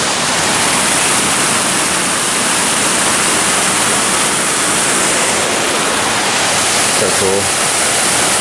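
Rushing water from a mountain stream beside a biking trail above Colorado Springs: a loud, steady broadband roar filling the whole clip, with a brief spoken remark near the end.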